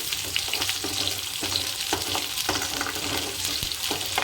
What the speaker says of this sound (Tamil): அரிஞ்சு வச்ச வெங்காயம் ஒரே ஒரு வரமிளகா ஒரு மூணு கருவேப்பிலை போட்டுக்கலாம் ஃப்ரெண்ட்ஸ் போட்டு நல்லா கிண்டி விட்டுக்கலாம்